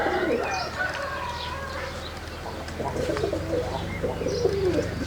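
Perdeli tumbler pigeons coo in low, rolling calls that repeat through the clip, close by, with faint rustling and chirps from other birds in the loft.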